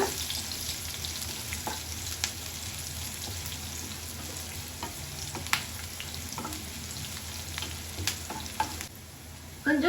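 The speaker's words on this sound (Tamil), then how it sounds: "வெங்காயம் நல்லா வதக்கிக்கோங்க" Sliced onion sautéing in a pan for a pepper shrimp gravy, a steady close crackling sizzle with occasional scraping stirs and clinks.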